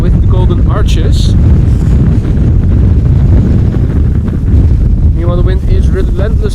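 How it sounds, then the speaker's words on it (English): Strong wind at Amsterdam Schiphol Airport buffets the microphone in loud, continuous gusty rumbles, with a voice talking briefly at the start and again near the end. "the wind is relentlessly blowing over here"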